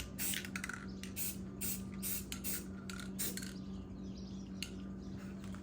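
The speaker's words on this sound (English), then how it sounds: "Smooth, slow, easy light sprays are better, so you can eliminate getting runs on there." Black spray paint hisses onto chrome Silverado exhaust tips in close, steady bursts of light coats, each spray pulse starting and stopping in a loose rhythm with no talking.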